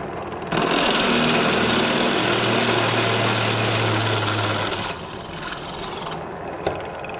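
An electric drill with an 8 mm bit bores into thick steel sheet, giving a loud grinding, rasping whir with a low motor hum for several seconds before easing off, and no one talks.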